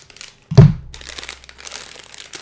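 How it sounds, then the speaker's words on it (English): Cardboard and plastic packaging of a Loot Crate box is cut open and pulled apart: one sharp thunk and crunch, then a run of close crinkling and rustling, with no talking. "let's go ahead and cut this thing open here"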